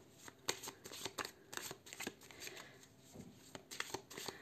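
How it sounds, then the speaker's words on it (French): Cartomancy cards shuffled by hand in a busy, irregular stream of soft slaps and riffling flicks, close but quiet, alone without talking. "Je termine de mélanger les cartes et je suis à vous."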